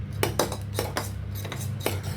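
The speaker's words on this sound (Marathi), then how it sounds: "त्याला मिक्स करूया, कोको पावडर आणि दूध." A spoon clinks against a pot or glass while stirring cocoa powder into milk for hot chocolate, giving a steady run of close, bright taps and scrapes at an irregular rhythm, with no talking.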